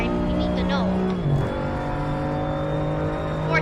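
A BMW M2 CS Racing car circles the Monza circuit in Assetto Corsa Competizione, its engine a loud, sustained drone that dips briefly as it shifts down, then holds a steady pitch under continuous talking.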